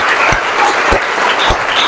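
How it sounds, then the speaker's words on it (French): A church congregation claps and cheers for the Lord, a dense wash of applause and voices with a few stronger rhythmic claps standing out, loud and close. "On va tous acclamer le Seigneur."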